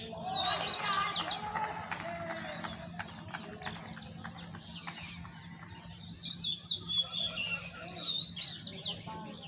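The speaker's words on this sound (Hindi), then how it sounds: "चिड़िया अपने चहचहाहट के माध्यम से, कलरव के माध्यम से" Morning birdsong outdoors: several birds chirp and twitter in bright, overlapping bursts over a steady low hum, with scattered clip-clop-like knocks beneath.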